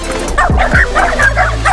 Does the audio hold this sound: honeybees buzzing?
no